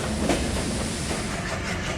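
Tungipara Express pulling away after a scheduled stop, a steady loud rumble of rolling wagons with faint clickety-clack over the rails, continuous and close throughout.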